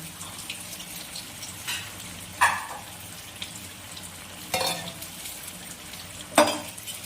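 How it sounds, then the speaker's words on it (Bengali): Katla fish curry with potato and eggplant is stirred with chopped coriander: a soft, low simmering sizzle broken by a few sharp scraping clatters of the spoon in the pan, spaced roughly two seconds apart. "এবার ভালো করে ধনেপাতা কুচি দিয়ে নাড়াচাড়া করে নেব"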